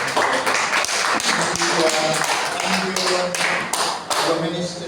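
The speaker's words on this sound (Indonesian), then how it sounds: "saya beri tepuk tangan dulu untuk leader" A church congregation clapping for the worship leader at a Sunday service, an irregular burst of many hands striking in quick, uneven taps, close and fairly loud, with a voice talking alongside.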